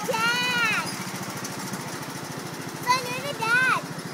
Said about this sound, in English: mowing the yard